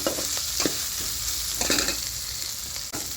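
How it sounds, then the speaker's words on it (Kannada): Onions frying in oil for upsaru, a steady close sizzle with occasional stirring scrapes, no voices. "ಈರುಳ್ಳಿ ಫ್ರೈ ಆಗಿದೆ"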